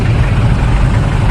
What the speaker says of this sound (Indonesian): suara solar si L300 sebelahnya.